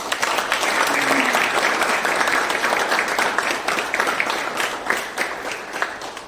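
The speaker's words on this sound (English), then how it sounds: "have a round of applause for our community exam cell" A seminar audience at an NCC awareness event claps loudly and continuously for several seconds, a close, dense wash of hands that tapers off slightly toward the end.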